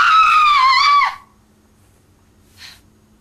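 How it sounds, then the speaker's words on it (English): A person lets out one loud, sustained scream lasting about a second, close to the listener, followed by near silence and a faint brief sound shortly after. "I'm going to scream."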